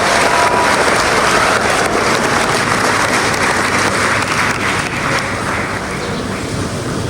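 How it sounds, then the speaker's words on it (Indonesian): Loud, dense applause from a large crowd at a high school ceremony commemorating Youth Pledge Day, a steady wash of clapping that fades slightly toward the end, with no voices over it. "Tepuk tangan untuk kita semua."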